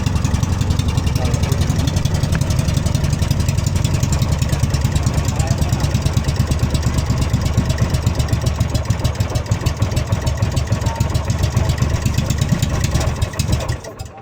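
An outboard boat engine runs continuously up close, loud and throbbing with a slightly uneven, misfiring beat, until it cuts off near the end; someone talks over it at times.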